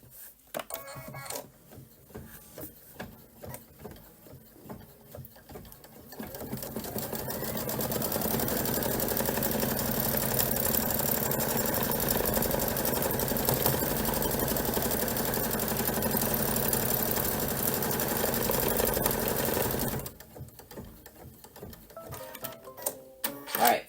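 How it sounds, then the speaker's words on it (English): A Kimberbell embroidery machine stitches a heart tack-down line on fabric in the hoop, a steady, fairly loud mechanical whir running from about six to twenty seconds, with quieter handling sounds and brief talk before and after. "we did stitch the heart tack down line"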